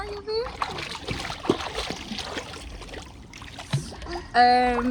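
Water splashes in a morning swim, irregular sloshing close by with children's voices and chatter over it, and a bright high voice rising near the end.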